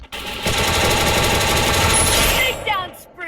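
Shotgun fire in a video game, a loud sustained burst of rapid shots lasting about two seconds, then cutting off into quieter game sounds.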